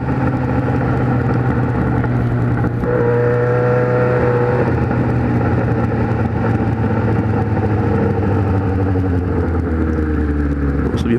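A Kawasaki Z1000 motorcycle engine runs loud and close with a steady low rumble and rising revs, under wind noise while riding.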